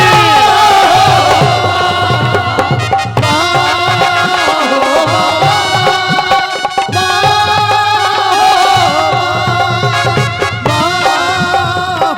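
A large congregation at an open-air Holy Mass on the first day of an annual pilgrimage chants a repeated response in loud unison, with musical accompaniment underneath and rhythmic phrases recurring throughout.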